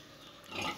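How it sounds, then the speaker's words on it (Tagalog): Pigs on a farm give a faint, brief grunt near the end of a short, quiet stretch of low barnyard ambience. "Tignan natin yung ating mga baboy. Ayan po sila."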